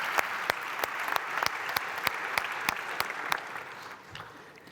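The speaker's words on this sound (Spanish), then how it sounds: "Un aplauso para Emma." Audience at an annual investment strategy conference claps for a speaker, with scattered loud individual claps standing out over a softer wash of applause that thins toward the end.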